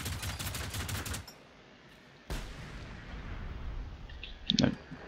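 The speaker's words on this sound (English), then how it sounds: "Get myself out a grenade, let's see if this works." Grenade explosion in the Generation Zero video game, a short dull burst near the end after a stretch of quieter gunfire-like crackle, faint in the mix.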